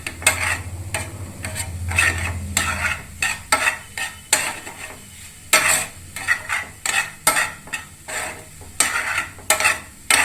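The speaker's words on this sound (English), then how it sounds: "Now we will mix it with a spoon, mixing the vegetables properly so that all the masalas get coated all over the vegetables and the paneer." A spoon stirs and tosses vegetables and paneer coated in masala in a pan for Italian-style pasta, giving repeated close scraping and clinking strokes in an uneven rhythm, with a faint sizzle underneath and no talking.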